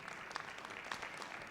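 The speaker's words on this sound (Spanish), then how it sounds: "Aplauso, por favor." Brief, faint patter of applause from a small gathering at a weekly assembly of a social movement, a steady wash of claps with no voices over it.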